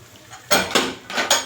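A pressure cooker clanks and rattles as it is lifted and handled in a home kitchen while pulao is being made: four sharp metallic knocks in two quick pairs, fairly close and loud, with no talking.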